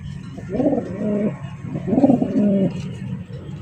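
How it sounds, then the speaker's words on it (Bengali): Rajshahi Giribaz pigeons coo at a bird market, two distinct rolling coos close by, each lasting under a second, over a low murmur of background noise. "রাজশাহী গিরিবাজ কবুতর"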